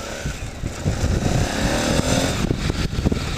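Motorcycle ridden over a heavily potholed road, engine droning steadily while the bike thumps and rattles through holes, with sharp knocks and jolts breaking the close, loud engine noise.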